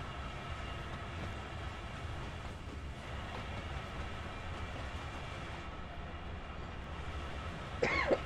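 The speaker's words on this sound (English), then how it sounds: "Oh, damn this cough." A cough comes at the very end, a short sharp burst close by, after a long stretch of steady train rumble and rail clatter from a train simulator cab.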